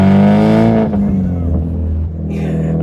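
A Mazda Miata with its ISR muffler deleted idles and revs loud and close in a suburban garage, a brassy, trumpet-like exhaust drone that dips briefly before settling back.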